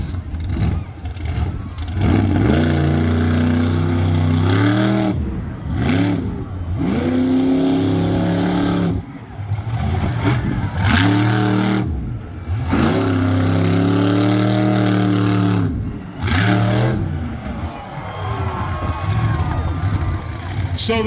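T-Rex monster truck engine revving hard during a timed run at a monster truck show, loud repeated rising and falling roars near the line, with an announcer talking over it.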